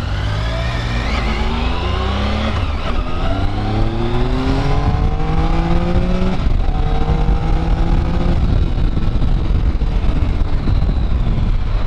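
A Yamaha MT-07 motorcycle rides fast, its engine loud and close as it revs through several rising gear pulls, each climb dropping back at the shift, with wind buffeting over the steady roar.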